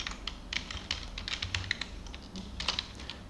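Steady typing on a computer keyboard, a quick run of light clicking keystrokes with uneven rhythm, close and alone without any voices.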